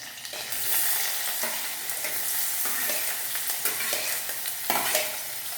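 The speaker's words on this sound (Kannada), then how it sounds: "ಇವಾಗ ಎಣ್ಣೆ ಕಾಯ್ದಿದೆ. ನಾನು ಚಿಲ್ಲಿನ ಹಾಕ್ತೀನಿ. ಅದರ ಜೊತೆಗೆ ಆನಿಯನ್ ಹಾಕ್ತೀನಿ." Chilli and onion dropped into hot oil sizzle and crackle loudly and steadily up close, with periodic scraping stirs of a spoon through the pan and no talking.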